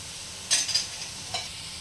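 Spices dropped one by one into a pan of lightly browned frying onions for chana ghugni, with a short burst of sizzling and a couple of stirring scrapes over a steady hiss, close and moderately loud.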